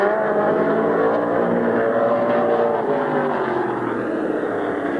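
Race cars at Midvale Speedway roar side by side down the backstretch, a loud, sustained engine drone with shifting pitch. No voices.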